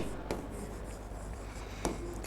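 Writing on a board during a physics class, heard as a faint, steady scratching with two sharper taps, over a quiet room background.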